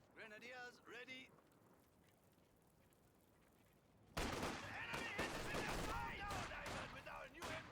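Heavy automatic gunfire and battle effects in the Company of Heroes 2 video game, with an MG-40 machine gun in play: a quiet stretch with brief voice at the start, then sudden loud sustained bursts of fire and explosions.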